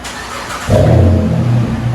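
A Dodge Charger V6 engine heard muffled from inside the cabin, quiet at first, then revving up with a deep, steady rumble.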